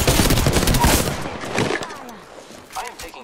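Rapid automatic gunfire in the shooter game Apex Legends, a dense burst of loud repeated shots that stops after about a second and a half, followed by quieter clatter and a brief voice.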